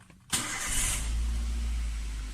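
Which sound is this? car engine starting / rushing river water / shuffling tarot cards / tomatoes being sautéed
car engine starting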